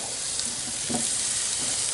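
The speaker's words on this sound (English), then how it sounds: "I got a good sizzle, and that's what I like" Chicken leg quarters sizzle loudly on a hot grill rack, a continuous crackling hiss with no one speaking.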